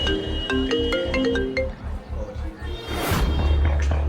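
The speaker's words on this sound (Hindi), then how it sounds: "तभी अभिनव का फोन फिर बजा।" A melodic phone ringtone plays a short tune of bright tones over a low rhythmic beat, then a whoosh and a dull thump.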